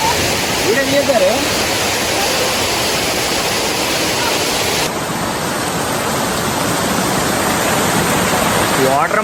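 Waterfall near Manuguru with very clear water, a loud, steady roar of falling water filling the scene throughout, with a brief voice surfacing under the rush near the start.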